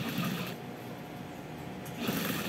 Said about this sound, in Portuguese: vou costurando ele já numa costura prespontada em cima, prespontando em cima da costura